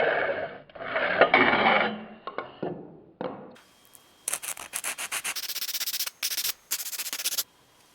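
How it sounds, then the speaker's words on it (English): Hacksaw cutting a piece of 1.5-inch ABS plastic pipe, starting with a few broad rasping strokes and then settling into a rapid, even run of short back-and-forth sawing strokes close up. "cut this piece out with a hacksaw"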